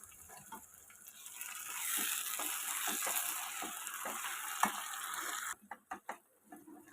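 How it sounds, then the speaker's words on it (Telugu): A paste of coconut, sesame seeds, peanuts and cashews fries in hot oil for a stuffed eggplant masala curry, giving a steady close sizzle with faint stirring scrapes. It cuts off near the end, leaving a few sparse knocks. "తర్వాత కొబ్బరి, నువ్వులు, పల్లీలు, జీడిపప్పు పేస్ట్ కూడా ఇందులో వేసుకొని బాగా వేయించుకోవాలి."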